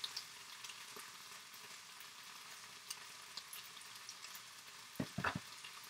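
Long beans and chicken fry in a pan with a steady, quiet sizzle, and a few brief clinks of stirring come near the end.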